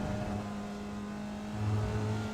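Formula Vee race car engine at full throttle in iRacing at Virginia International Raceway, held in third gear: a steady, buzzing mid-pitched engine drone with a slight rise in intensity near the end, heard alone.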